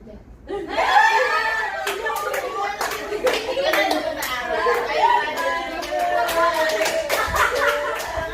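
Children playing a 3-6-9 counting game clap their hands in sharp, scattered bursts while kids chatter, chant and laugh throughout in a lively classroom.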